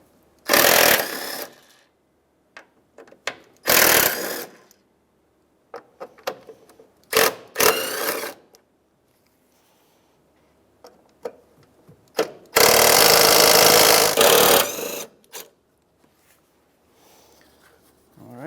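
Ratchet backing out several 10 mm bolts from the battery tray of a 2007-2015 Mazda CX-9, heard as separate bursts of rapid clicking with quiet gaps between them, including one longer run near the end, close by and with no talking.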